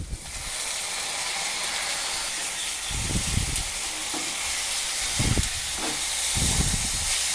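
Green chillies and tomatoes sauté in a hot pan with softened onions for egg kothu chapathi, a steady close sizzling hiss broken by several bursts of scraping as the mixture is stirred.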